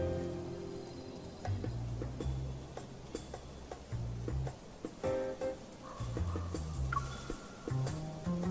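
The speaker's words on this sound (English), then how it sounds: "The weather report didn't mention anything about localized rain today." Rain in the Love and Deepspace video game patters steadily with scattered ticking drops, under a low droning music bed that swells and fades throughout.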